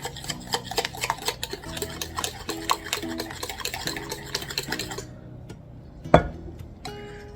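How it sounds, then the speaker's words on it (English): A spoon stirs tres leches cake batter of flour and egg yolk mixture in a bowl, giving dense, steady rhythmic scraping and tapping that stops briefly near the end before one sharp clink on the bowl and a few lighter strokes. "We're going to stir this until it comes together."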